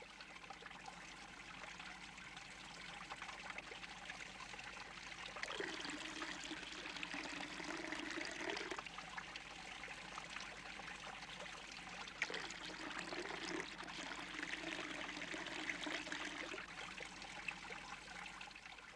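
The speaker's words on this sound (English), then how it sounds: "As the fresh water is poured through the ashes, it dissolves the salt and separates it from the ash." Fresh water poured through wood ashes to dissolve out salt, a Baruya salt-making step in Papua New Guinea: a steady soft trickle and dribble of liquid runs throughout, swelling in two longer pours amid faint outdoor background.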